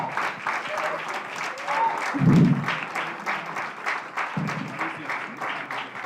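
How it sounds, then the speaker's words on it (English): An audience at a live book launch in Lagos breaks into sustained applause, dense clapping that swells in the middle and continues steadily, with some voices mixed into the clapping. "Be generous with your applause."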